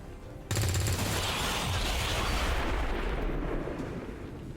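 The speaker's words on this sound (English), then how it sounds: "We're having fun with the explosions today. Kaboom!" A loud video game explosion bursts in suddenly, then a dense, sustained roar of blasts and crackling debris fills the rest of the clip.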